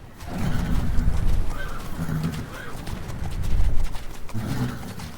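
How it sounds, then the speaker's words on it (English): Horses stand and move about in a busy harbour yard, hooves clopping on the ground and one whinnying briefly amid steady outdoor bustle and cooing pigeons. "But what would have been really weird was the number of horses that you would see here."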